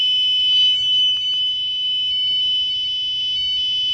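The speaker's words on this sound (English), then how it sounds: "Now the alarm is activated" An Arduino-based car alarm with the engine off sounds a loud, steady high-pitched siren tone that holds continuously throughout, with faint low rumbling underneath.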